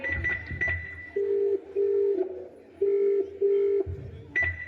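An unanswered phone call's ringback tone repeats in paired beeps, the double pulse sounding twice with pauses, over faint background noise and a short electronic tone.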